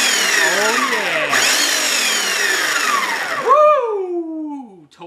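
A small McCulloch electric chainsaw, just repaired after its chain would not turn, whines at high pitch and steady speed, then the motor winds down, revs briefly again and coasts to a stop.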